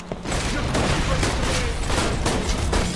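Gunfire from a blunderbuss in the Borderlands 2 video game, a dense, continuous roar of blasts and booms filling the whole stretch, loud and close.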